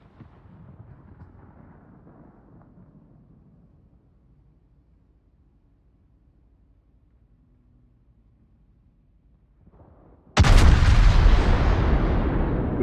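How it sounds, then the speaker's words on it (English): Warship main guns fire in World of Warships, a loud, sudden broadband blast near the end that rumbles on and decays slowly, after a stretch of low, quiet engine-like hum. "Good sounding guns."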